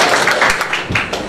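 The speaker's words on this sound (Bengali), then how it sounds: "আচ্ছা তাকে একটা হাততালি দেন" An audience at an industrial automation and PLC workshop gives a short round of applause, a dense clatter of many hands at close range lasting just over a second.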